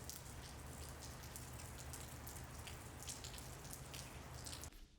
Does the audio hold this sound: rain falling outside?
yes